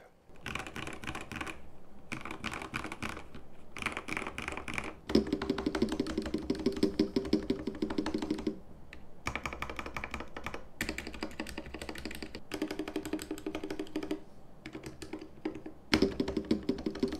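Rapid typing on an Epomaker TH80 mechanical keyboard with IDOBAO PBT keycaps, crisp clacking keystrokes in bursts with short pauses between, close and clear.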